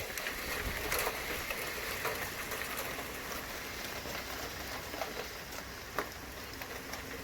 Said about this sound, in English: Some hail.